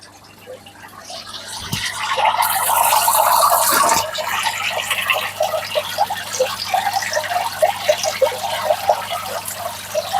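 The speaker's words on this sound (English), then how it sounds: "I can get some fresh water from under the shower." Fresh water runs from under a shower, a steady splashing and trickling that builds up loudly for several seconds, then continues as uneven dribbling and splatter over a low hum.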